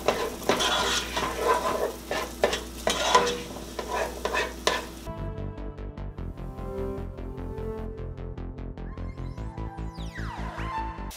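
Onions dropped into melted butter and stirred in a pot for creamy potato soup: a few seconds of loud sizzling frying, then a steady run of scraping stirring strokes with light clinks of utensil against pan, no voices.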